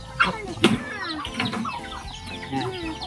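Several chickens and chicks cluck and squawk nearby in quick, overlapping calls, with a few sharper bursts among the steady clucking.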